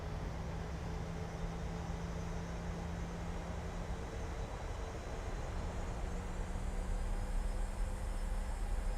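Steady jet engine thrust from a PMDG 737-700 in Microsoft Flight Simulator, a continuous broadband roar with a low hum, constant level throughout with no talk.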